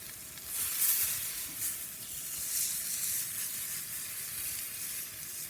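Prime rib steak searing over very high heat on a Kamado Joe Big Joe grill with soapstone after a low smoke, a continuous close, even sizzle and crackle with no voices.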